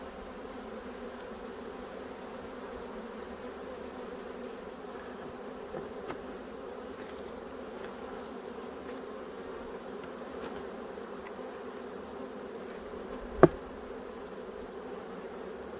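Honeybees buzz steadily at an opened hive during a late-season inspection, a dense continuous drone without talk and one sharp knock near the end.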